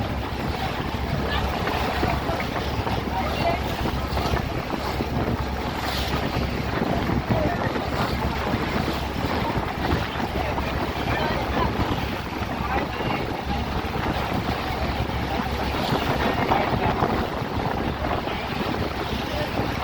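Steady, loud rumble of a boat moving over the sea toward the Gateway, with wind buffeting the microphone and water rushing past throughout.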